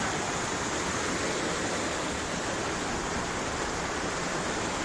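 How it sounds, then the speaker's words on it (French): A mountain stream in the Vosges rushes steadily beside a forest trail, a dense, continuous broadband roar of flowing water, close and unbroken with no voices. "Et on va remonter le long du ruisseau."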